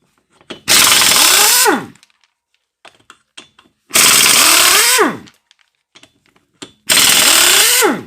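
A power impact tool loosens lug nuts on a 2004 Chevy Impala wheel, three loud, close, one-second bursts whose whine drops in pitch as each nut breaks free, separated by quiet gaps with small clanks.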